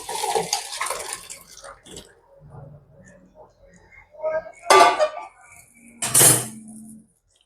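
Marunthu kuzhambu is poured from one cooking vessel into another, with liquid splashing and metal pots clinking in a few distinct bursts amid quieter kitchen handling.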